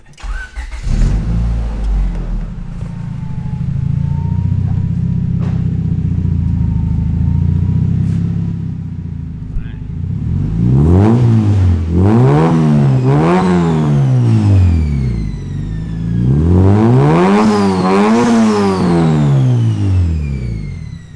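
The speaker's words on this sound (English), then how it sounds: "Just listening to that turbo." A turbocharged Honda EK hatchback engine runs steadily up close, then is revved hard in repeated rising and falling bursts, two long rev sequences with loud climbing and dropping tones.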